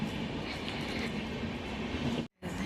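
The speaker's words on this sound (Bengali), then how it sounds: "ওইদিকে ট্রেন যাচ্ছে।" A train rumbles past nearby, a steady, loud roar of wheels and rail that cuts out abruptly near the end before the noise resumes.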